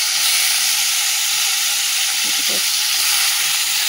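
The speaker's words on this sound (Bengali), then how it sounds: "নিয়ে রেখে আলু ভাজাটাকে ভেজে নিই, তারপর লতিটা বানাবো।" Potatoes coated in salt and turmeric fry in a kadai, producing a loud, steady, close hiss of sizzling oil with a few faint clinks partway through.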